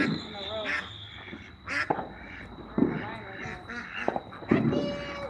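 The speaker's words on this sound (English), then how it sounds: "Fat Pekin ducks." Pekin ducks quack in short scattered bursts nearby, mixed with a person talking softly, under a faint steady high whine.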